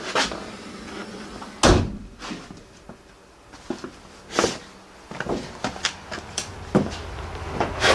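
Police car door lock actuators firing with sharp mechanical clunks, several thumps and clicks spread out close by, with the door mechanism rattling between them.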